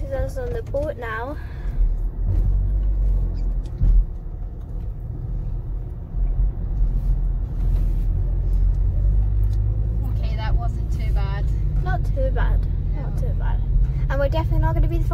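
A deep, continuous ferry engine rumble fills the space, with people talking over it at times.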